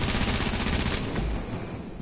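Video game gunfire from a distant enemy rattles in a dense, continuous automatic burst that fades slightly over two seconds, loud and noisy with no talk.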